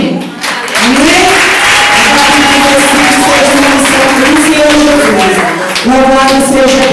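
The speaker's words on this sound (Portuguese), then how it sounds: "Palmas para Elina" A church congregation claps for Elina, a broad wash of applause filling the room with sustained voices or tones ringing above it throughout.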